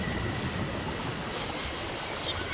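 A spring-operated locomotive at a station in the Syberia video game gives off a continuous rumbling mechanical noise with a steady, dense texture, loud and close throughout.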